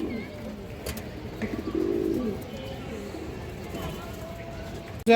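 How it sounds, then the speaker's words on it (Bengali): Army-breed pigeons coo close by in low rolling calls, with a few light chirps and a voice talking over them. "আর্মি কবুতর আছে মাশাআল্লাহ"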